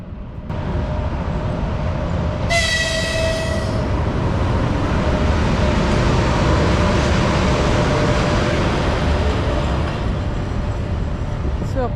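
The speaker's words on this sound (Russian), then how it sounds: "Никитосик, смотри, тепловоз едет, который сейчас объедет наш состав с той стороны и прицепится" A diesel locomotive travels alone past a stopped passenger train near Nizhny Novgorod on the Samara to Saint Petersburg route, a loud continuous rumble and roar filling the whole stretch, while a person talks over it.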